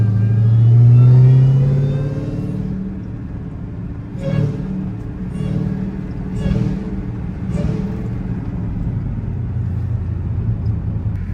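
A hoodless 1000 hp Dodge Demon 170 Charger engine revs hard while the car slides through a turn, starting with a loud low roar that eases into a rumbling, throbbing idle and repeated throttle blips, with brief chirps over the top.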